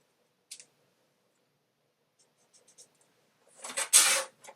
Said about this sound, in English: I'm just going to draw a line.